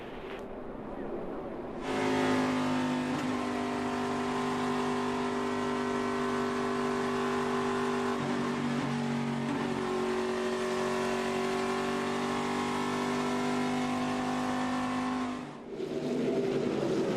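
NASCAR Sprint Cup stock cars at the 2013 GoBowling 400 drone past under caution, a loud steady engine roar with layered harmonic tones that holds for most of the stretch, swelling in after a quieter opening and dipping briefly near the end.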